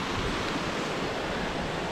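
Water runs beneath a footbridge in a nature area in Armenia, a steady, moderately quiet rushing wash heard on its own with no voices.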